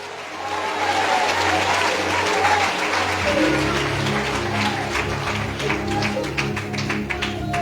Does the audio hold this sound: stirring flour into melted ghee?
no